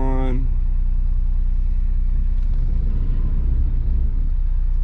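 A 36-foot Class A diesel RV engine running steadily as it pulls away, a loud continuous low rumble filling the cabin, with a voice briefly at the start.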